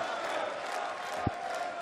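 The crowd at the 2017 Austrian Darts Open roars in a dense, sustained wall of cheering and shouting after a break of throw, with one sharp thump partway through.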